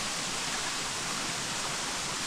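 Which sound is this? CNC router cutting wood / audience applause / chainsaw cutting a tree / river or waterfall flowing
river or waterfall flowing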